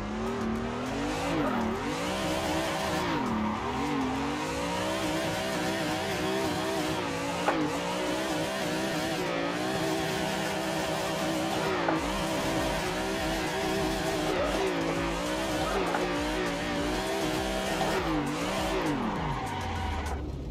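A car drifting in a racing simulator game, with a continuous engine drone that rises and falls with the revs, layered over sustained tire squeal through long slides, steady and loud the whole way.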